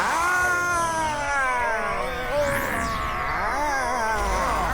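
A cartoon cat meows loudly and continuously in a drawn-out, wavering caterwaul that rises and falls in pitch, with no talking over it.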